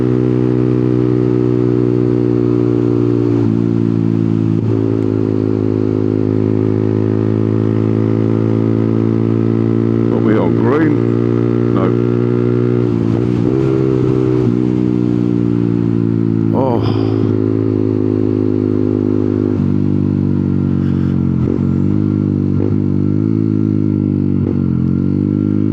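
A motorcycle engine drones steadily and loud from the rider's position while heading into a KFC drive-thru, with slight pitch shifts, brief clatter and faint other noises over the idle.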